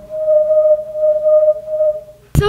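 A corrugated plastic whirly tube spun around in the air gives a steady, pure whistling tone for about two seconds before a brief louder knock cuts it off.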